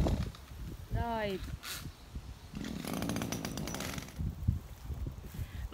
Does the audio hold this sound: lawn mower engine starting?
yes